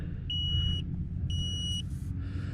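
A solar-powered LCD car tire pressure monitoring unit gives two sustained high electronic beeps, each about half a second long, over a low rumbling car interior background.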